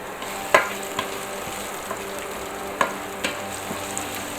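Garlic and chili frying in a pan for spaghetti with anchovies, a steady close sizzle with a few sharp pops and spatula scrapes scattered over it, no talking.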